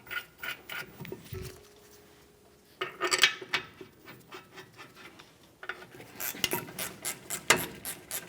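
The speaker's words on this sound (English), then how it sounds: "Start them in, snug them up, torque them to" A ratchet clicks in quick runs as caliper bracket bolts on a 1999-2006 Chevrolet Silverado 1500 are tightened. Close, crisp pawl ticks come in several bursts, with pauses and faint metal handling in between.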